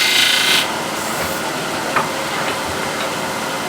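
A negative rake scraper drawn across wood makes a close, continuous rasping scrape, loudest at the start and then easing into a steady rubbing with a few brief clicks, without any talking.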